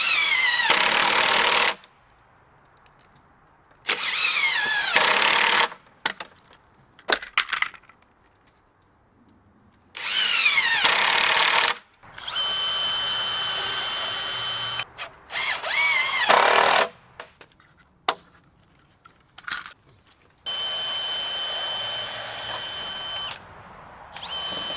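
Deck screws 2.5 inches long are driven into wood for a rabbit hutch with a power drill, loud close whirring bursts of several seconds each, separated by short pauses and small clunks.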